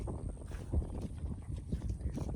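Horse hooves clip-clop in a loose, uneven rhythm while crossing a canal in open rural char land, heard fairly close under rushing wind and water noise.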